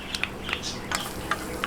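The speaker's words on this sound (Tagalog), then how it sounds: "umpisahan na po natin yung paggigisa" Ground meat sautéing in a little oil in a pan, a soft steady sizzle broken by several sharp crackles and stirring scrapes at close range, with no voices.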